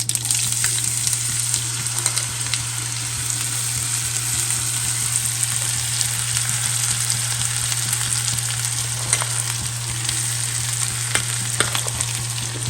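Raw green mango pieces frying in hot oil with mustard seeds and curry leaves for a wedding-style mango pickle, a steady, close, loud sizzle with a low constant hum underneath and no voices.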